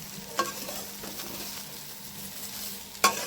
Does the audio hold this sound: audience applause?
no